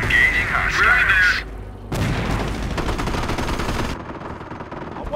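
Rapid machine-gun bursts and heavy gunfire in the World War II strategy game Company of Heroes, sharp crackling volleys near and loud, with a voice speaking briefly at the start.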